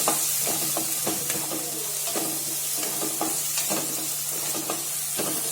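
Davanagere puffed rice (mandakki) frying in hot oil, crackling and sizzling steadily, with repeated scraping stirs of a spoon in the pan, close and moderately loud.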